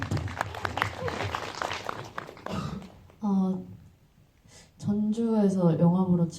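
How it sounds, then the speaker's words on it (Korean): Audience applause at a Korean indie film talk event after the screening of Hail to Hell, a dense clatter of clapping filling the first few seconds before giving way to talk from the host. "박수 부탁드립니다"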